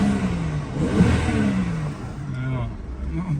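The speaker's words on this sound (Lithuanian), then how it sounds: "variklis tai dirba labai gražiai" A pickup truck engine idles and revs in short bursts close by, a steady mid-pitched hum rising and falling over a few seconds, with people talking faintly in the background.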